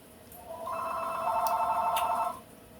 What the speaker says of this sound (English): Never fails. The phone's ringing.